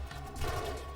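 A burst of video game gunfire from Mirror's Edge Catalyst, a quick rattling volley of shots at moderate loudness over the game's background audio, with no speech.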